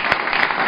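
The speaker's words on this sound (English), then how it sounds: "Round of applause for you guys," A brief, dense burst of applause from a graduation ceremony audience, close and steady for under a second.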